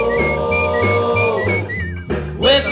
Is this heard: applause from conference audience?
no